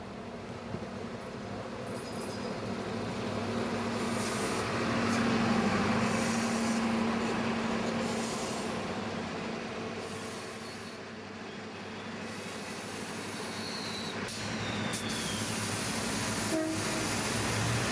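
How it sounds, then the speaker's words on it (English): The Perth to Bunbury Australind passenger train passing near Yarloop, a sustained loud rumble and rail roar swelling and fading, with brief horn-like tones toward the end. "Or you can travel to there by the Perth to Bunbury Australind train, which arrives in Yarloop about 11 a.m. every day."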